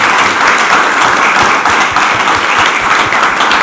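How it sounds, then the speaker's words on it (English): After a tech talk, an audience breaks into loud, close, continuous applause with dense overlapping claps that holds steady throughout. "put your hands together and give a really rousing applause"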